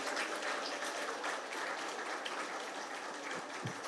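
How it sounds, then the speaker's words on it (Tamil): Faint, distant applause from an audience at a celebration of students' exam results, a steady patter of clapping heard alone. "இதுக்கு ஒரு மிகப்பெரிய கைத்தட்டல் கொடுக்கலாம்."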